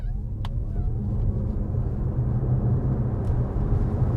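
A BYD Seal electric car accelerating hard from a standstill with a deep, steady rumble of road and drivetrain noise, continuous and close, with no one speaking.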